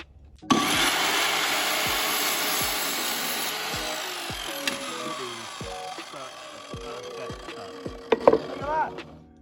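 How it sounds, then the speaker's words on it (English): An Evolution power saw cuts through wood during a campervan floor build, running as a loud, sustained whine with pitch shifts as the blade loads, then a few rattling bursts near the end. "So I got a new saw recently as well, the Evolution blade."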